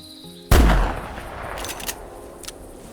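A single loud .45-70 rifle shot in theHunter Classic video game cracks sharply, followed by a fading rolling echo and a couple of faint later clicks.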